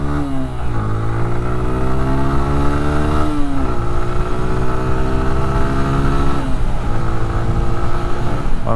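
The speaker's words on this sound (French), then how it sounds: "petit test d'accélération à basse vitesse" A 2005 Yamaha YBR 125 motorcycle engine revs up gently at low speed, pitch climbing in three successive pulls with brief drops between, close and loud.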